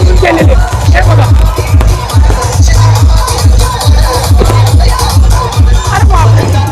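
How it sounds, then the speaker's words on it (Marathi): Dense festival crowd at a Shivaji Maharaj Jayanti celebration, a steady loud hubbub of many voices under heavy rhythmic drumming that repeats through the whole stretch. "अरे बापरे गर्दी बघा काही किती इथं."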